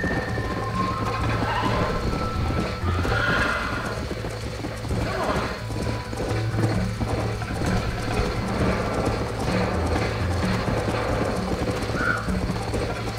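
Steady hoofbeats of a horse galloping in Red Dead Redemption, a continuous rhythmic drumming with rumbling game ambience and an occasional neigh, loud throughout.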